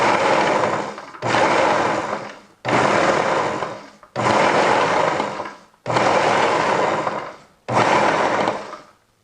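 A food processor pulses garlic scapes with parmesan in six loud bursts of about a second each, split by short gaps of quiet, the whirring chop staying close and steady through each burst.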